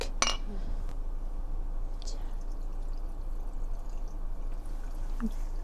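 Cheongju rice wine poured steadily into a bottle of shredded ginger, a continuous close splashing stream from start to end, with a couple of glassy clinks at the beginning.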